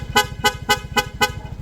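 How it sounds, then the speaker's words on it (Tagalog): Corsa horn fitted to a Yamaha Mio Gravis scooter, sounding five short, evenly spaced honks in a quick rapid-fire rhythm, loud and close, with engine idle rumbling underneath. "Switch, Corsa horn."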